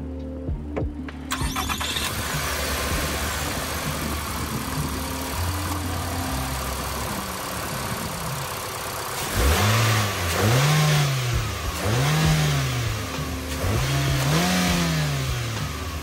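A 2024 Nissan Altima SV engine starts and idles steadily under the hood, then revs up several times in distinct rising and falling bursts, heard close and alone.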